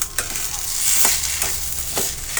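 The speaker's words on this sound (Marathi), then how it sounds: "हलवून घेणार आहोत व्यवस्थित" Semolina sheera with sugar stirred in a pan: a spoon scrapes through the thick mixture in a few rhythmic strokes over a steady soft sizzle, close and fairly loud, no voices.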